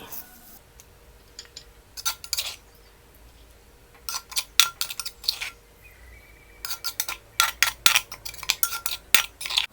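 A spoon scoops Thai-style pounded cucumber salad onto a plate. It makes clusters of bright metallic clinks and scrapes in irregular bursts, close by, with quiet gaps between them.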